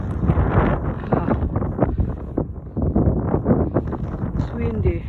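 Gusty wind buffets the microphone on a coastal walking trail in Alaska, a steady loud rush throughout with people talking over it.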